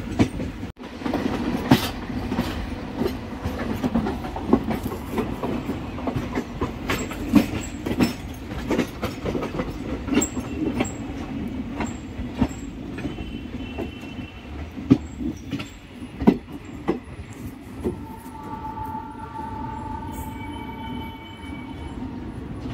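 Rewari–Delhi passenger train rolling on rails toward Old Delhi, a loud steady rumble with repeated clickety-clack wheel beats and occasional squeals, up close and without voices.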